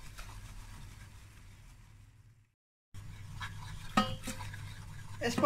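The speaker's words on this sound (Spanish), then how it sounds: "A fuego ya suave, removiendo." A utensil scraping and stirring flour in a pan over low heat for béchamel, soft continuous scratching with a brief cut to silence, then a few sharper clinks against the pan.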